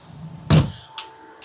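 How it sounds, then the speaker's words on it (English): A door at home shuts with a single sharp thud, followed by a couple of faint knocks and rattles as it settles. "I got to shut my door."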